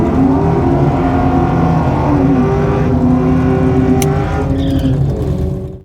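A car launches hard down a drag strip using launch control, its engine revving loud and close in a steady high-pitched roar that climbs briefly before dropping away at the end.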